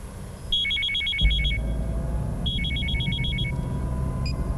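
A telephone rings in two bursts of rapid electronic trills separated by a pause, with a brief low thump between them.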